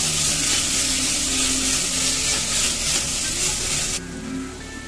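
Finely chopped tomatoes hit hot oil with ginger garlic paste, setting off a loud, steady sizzle that fills the whole stretch and then drops a little toward the end.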